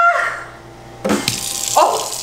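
Tap water runs into a sink for a cold-water hair wash before dyeing, a steady broadband rush that surges louder partway through with splashing, heard alone and close.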